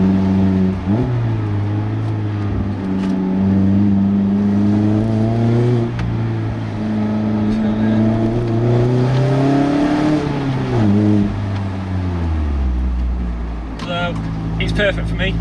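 A Mazda MX-5 with an aftermarket exhaust drones loudly from close by, its engine note rising and falling through several revs and gear changes before easing off near the end.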